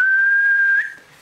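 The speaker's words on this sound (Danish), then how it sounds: "Jeg fløjter." A person whistles one steady, clear note for under a second before it trails off, alone and close, during a Danish card game of Brus.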